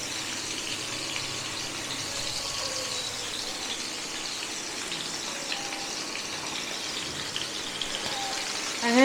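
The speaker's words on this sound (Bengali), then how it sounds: "তেলটা গরম হয়ে গেছে, দিয়ে দেবো মাছটা।" Bhola fish frying in hot oil for a Bengali fish curry gives a steady, hissing sizzle, continuous and fairly close, with a few faint clinks and no speech.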